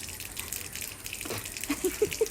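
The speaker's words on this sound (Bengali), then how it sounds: "ওকে উঁচু থেকে জল ফেলতে হবে তারপর খাবে" Water poured from a height for an animal to drink, a short splashing gush with a few gurgling drops near the end, close and fairly soft.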